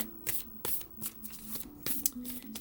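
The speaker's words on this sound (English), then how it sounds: "let's draw a love card for you" Tarot cards are shuffled and drawn by hand in a quiet room, with a rapid series of crisp riffling flutters and sharp card snaps close up.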